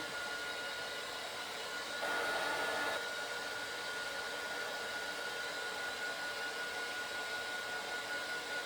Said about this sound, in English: And then I'm going to give it a bit of a blast with my heat tool.